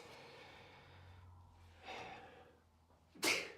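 Someone off-mic in a live studio Q&A lets out a single sharp sneeze near the end, after a couple of quieter breaths and sniffs, all faint and with no talk over it.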